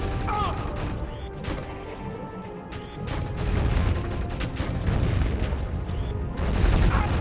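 An enemy exploding at knee height in Turok 2, a dense roaring blast that swells and rumbles over continuous loud game noise for several seconds.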